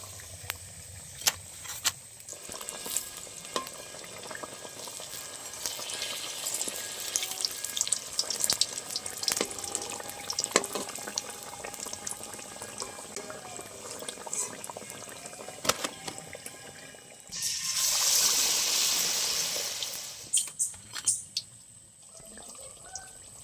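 Potato chops deep-frying in hot oil, a steady bubbling crackle with scattered pops and a louder surge of hissing near the end, heard close with no voices.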